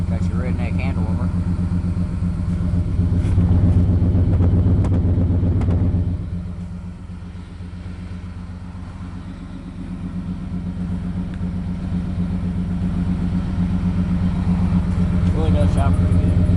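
A 1995 Chevy Cheyenne pickup with a single exhaust idles after a cold start, a steady close rumble that drops slightly in level partway through, with people talking over it.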